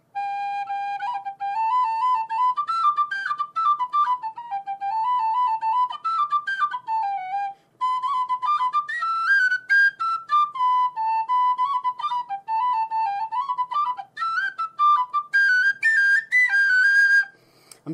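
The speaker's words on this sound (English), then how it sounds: "This is my nice penny whistle, shipped in from England." A penny whistle from England plays a lively folk-style melody alone, bright sustained notes bending and trilling with a short pause midway before the tune resumes and climbs higher.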